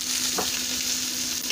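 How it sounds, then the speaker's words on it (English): NY strip steaks seasoned with black truffle salt searing in a hot pan, a loud, continuous close sizzle with one brief scrape partway through. "we're going to sear these guys up"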